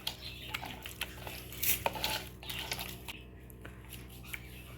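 A beaten egg mixture is stirred in a bowl with a utensil, producing repeated close clinks and scrapes against the dish along with soft wet squishing, in an uneven rhythm.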